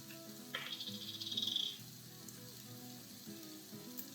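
Garlic paste hits a hot frying pan with a sudden, close sizzle that swells for about a second, then settles into a softer steady crackle while cooking breakfast beans.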